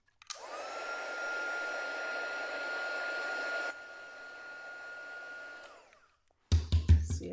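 A heat tool warms paper for card making, a steady, moderately loud blowing whir that drops to a lower level partway through, then cuts off, followed by a few brief knocks or handling sounds.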